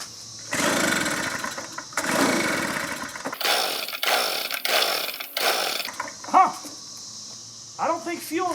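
Three rough, roaring bursts from a 2-cycle blower with a no-spark fault as someone tries to start it, each sputtering out without catching, followed by someone talking.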